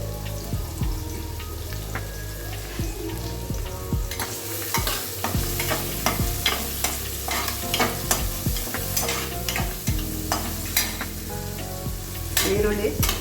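Chopped onions sizzle and crackle in hot oil in a pan as they fry for a raw papaya pulao, with repeated scraping and stirring strokes close by, steady and fairly loud throughout, no talking.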